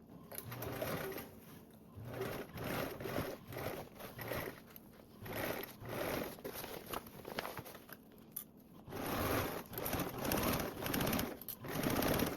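A sewing machine stitches a tote bag lining seam at a half-inch allowance, running in close, rapid mechanical bursts with short pauses between runs, no talking.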